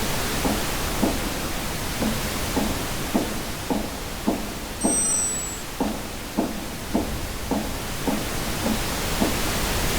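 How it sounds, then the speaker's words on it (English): A static wall in a video game gives off a continuous hiss of dense noise, with a regular run of soft low knocks or thuds pulsing under it at about one per second. "we can hear the static of the static wall as we get closer to it"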